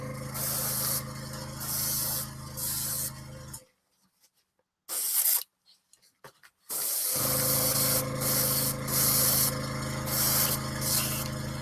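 Spray paint hissing onto the base of a miniature, close and loud in long continuous bursts, with a pause of near silence in the middle before spraying resumes.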